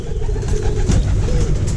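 Pigeons cooing at a nest built in a house, low rolling coos close by over a rumbling background, with a faint voice nearby.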